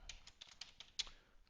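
Fast, irregular typing on a computer keyboard while coding, a run of light clicking keystrokes close by with one louder key hit, no talking.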